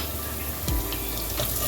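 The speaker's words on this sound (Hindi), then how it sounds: "जब प्याज हल्का सा ब्राउन हो उसको तो इसके अंदर ये पानी ऐड कर दें।" Water pours into a cooking pot of lightly browned onions with bay leaf, cinnamon, star anise and cloves for dhaba-style rice, a sudden close splashing rush that starts partway through and keeps running steadily.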